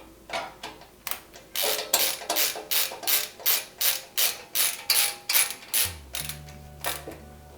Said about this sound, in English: Fully tighten both M3x10 screws in the M3NE nuts.